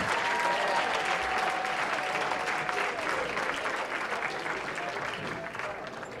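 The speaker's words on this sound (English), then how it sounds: "Let's have one final, underscore the word final, round of applause for the 1990-91 varsity football team." Guests at a high school athletic hall of fame dinner give a sustained round of applause for a 1990-91 varsity football team, with steady, full clapping that fills the room and fades slightly toward the end.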